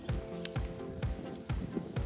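Fish sizzles steadily in a frying pan, with a rhythmic pulse of loud crackling bursts and a constant hiss close by.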